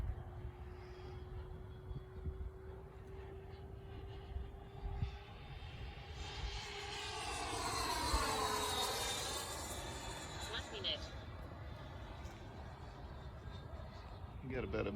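A Freewing Avanti S 80mm EDF jet flies past, its ducted-fan whine rising and sweeping through a mid-distance pass around the middle, then fading, with wind noise and a steady tone throughout.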